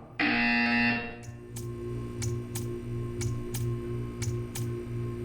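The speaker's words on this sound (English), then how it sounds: "You will hear a buzzer." A loud, harsh buzzer in Portal 2 blares for about a second, then stops, leaving a steady series of sharp ticking clicks at regular intervals.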